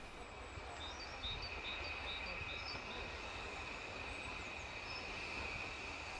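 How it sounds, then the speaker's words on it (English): Adams O2 steam locomotive number 24 in malachite green arrives at Smallbrook Junction with a passenger service from Haven Street, a steady rolling rumble with faint wheel squeal and high whistling tones. "the real Calbourne, number 24, sporting its malachite green livery, arrives at Smallbrook Junction with a 10:15 service from Haven Street"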